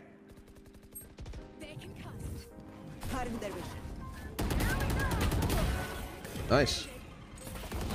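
Gunfire in the Valorant shooter game, a burst of sharp shots and impacts in a busy firefight, with someone talking over the action throughout.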